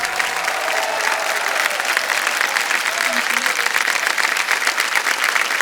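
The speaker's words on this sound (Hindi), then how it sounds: "ताली बज जाए जोर से इनके लिए" A studio audience on the KBC quiz show applauds a female contestant who answered correctly, with steady, dense clapping throughout as someone speaks over it and faint music plays beneath.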